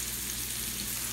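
Steady, dense sizzling of snapper fillets frying in a hot pan, a continuous crackling hiss with no voices.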